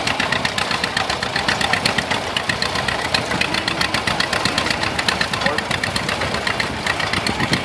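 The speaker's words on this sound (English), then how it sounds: "Alright, we got a 1947 John Deere crawler, Doug Martin, out of Myra, Texas." A 1947 John Deere crawler engine runs steadily at a tractor power parade, a close, loud, evenly knocking idle-like beat with rapid regular firing pulses throughout, under a faint background of crowd and outdoor noise.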